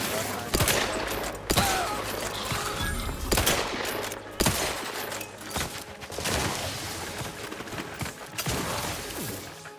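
Gunshots in the video game The Outer Worlds 2: heavy, rapid automatic fire and sharp individual shots in bursts, loud and close, with game sounds mixed in and no talk over them.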